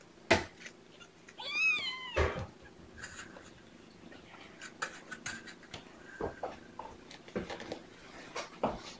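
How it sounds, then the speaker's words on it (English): Young kittens meowing nearby, one rising, wavering cry standing out among a few shorter mews, with scattered light taps and rustles in an otherwise quiet room. "enjoy the kittens"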